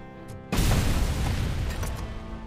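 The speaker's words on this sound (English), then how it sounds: "those explosions of paint are great" A sudden loud boom of a paint explosion in the RoboCop: Aimbot City video game, bursting in after a quiet moment and rolling on as a dense, sustained blast.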